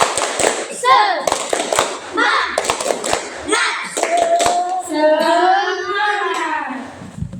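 Primary school classroom students doing a rhythmic spirit clap, sharp group claps in quick patterned bursts, loud and near, mixed with children chanting and calling out together.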